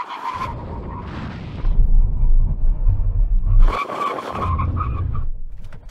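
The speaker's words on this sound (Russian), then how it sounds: "Проверка торможения со 110 км в час." An AMG GLE 53, a Porsche Cayenne Coupe and a VW T-Roc R brake hard from 110 km/h, tyres loudly skidding and scraping in two close bursts over a heavy low rumble.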